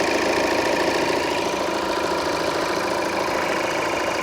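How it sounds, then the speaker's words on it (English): A Volvo car engine idles steadily, a close, loud mechanical drone with a faint rhythmic knock throughout and no talking. "I will stop the engine."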